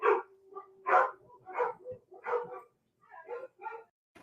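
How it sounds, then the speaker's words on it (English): A dog barks in a room, a string of about seven short, fairly close barks and yips in an uneven rhythm with quiet gaps between them. "Tom's dog started barking there."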